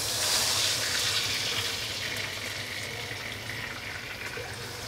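Water is poured into a hot pan over a sizzling tempering of cumin, asafoetida, mustard seeds and curry leaves, giving a loud hiss and bubbling that gradually settles, with no speech.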